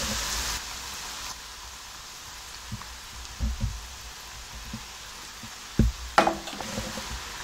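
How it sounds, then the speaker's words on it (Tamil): Wheat masala chips frying in hot oil give a steady, soft sizzling hiss with scattered pops and a few louder crackles near the end, heard close up with no voices. "நல்லா செவந்து மொறுமொறுன்னு வரட்டும், சலசலப்பெல்லாம் அடங்கட்டும்"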